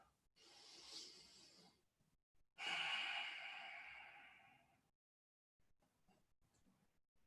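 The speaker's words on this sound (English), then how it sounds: "Deepen the inhales" Two slow, deep breaths during a yoga session, a soft inhale followed by a longer, louder airy exhale that gradually fades, close and quiet with no speech.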